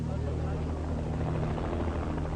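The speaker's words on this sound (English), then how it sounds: "As the chopper pulled off with the Red Cross and the representatives inside" A helicopter lifts off carrying Red Cross staff and representatives, its rotor a steady, loud, continuous throb with a low droning hum that holds throughout.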